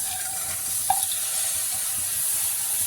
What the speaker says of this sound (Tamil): இதை நல்லா வணக்கி விட்டுக்கலாம்